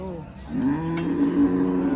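A cow at the Kopargaon cattle market lets out a single long, low moo close by, rising and holding steady, over a faint background hum.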